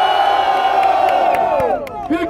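A crowd at a rap battle roars and cheers loudly, a dense swell of shouting voices that holds and then drops off near the end.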